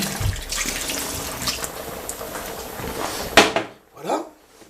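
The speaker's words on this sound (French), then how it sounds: "On va rajouter notre mélange d'eau et de sauce tomate et d'épices." A mix of water, tomato sauce and spices is poured into a Tunisian couscous pot, making a steady rushing splash that ends abruptly, followed by a brief knock and a short final slosh, close and loud.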